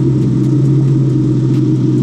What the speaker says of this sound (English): we got Izzy's car jumping the Eclipse